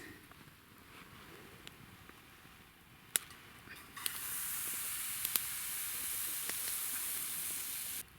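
Steady hissing sizzle of pancake batter hitting a hot dry frying pan on a fish-shaped wood-chip stove, growing louder partway through, with a few faint clicks and taps; no talking.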